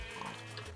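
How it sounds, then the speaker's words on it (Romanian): A pig in the Minecraft video game gives a short grunting oink, brief and fairly clear over steady game background noise. "acum vreau să omor porcii"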